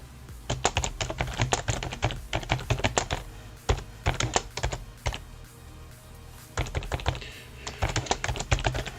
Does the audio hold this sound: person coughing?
no